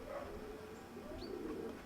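A pigeon gives soft, low cooing calls, faint and somewhat distant, against a quiet background hum.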